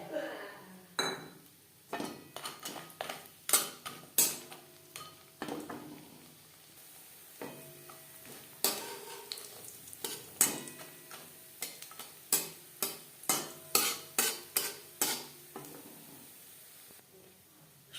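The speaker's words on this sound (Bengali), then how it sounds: "রিফাইন্ড অয়েল গরম করে নেওয়ার পর দিয়ে দিলাম বড়ি।" Bori lentil dumplings fry in hot refined oil in a pan, with a soft sizzle beneath repeated sharp clinks and scrapes of a utensil against the pan as they are turned, close and fairly quiet.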